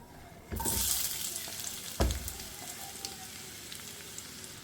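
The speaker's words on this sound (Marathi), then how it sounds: "सो कांदो न्ही आमकां 1-2 मिनटांनी एका बरें फ्राय करून घेवया." Chopped onion hits hot oil in a pan and bursts into a loud sizzle, followed by a stirring clatter and a steady close hiss of frying.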